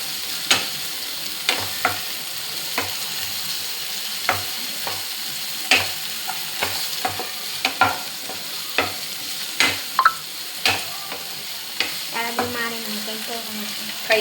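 Noodles with capsicum and onion are stir-fried in a home kitchen pan, with repeated sharp scraping and tossing strokes over a low sizzle, close by and with no talk.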